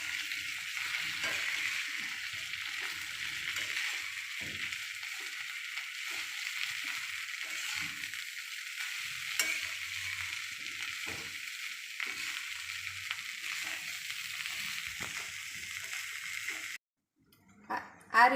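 Batata poha mixed with lemon juice is stirred in a pan, giving a continuous soft hiss with scattered spoon scrapes and taps. It stops abruptly near the end, followed by a couple of louder knocks.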